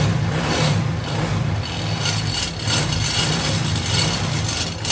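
A Honda motorcycle engine, a Dream Yuga, Neo Twister or Passion X Pro, runs steadily just after being refitted, a continuous mid-pitched idle with slight revving, close and fairly loud.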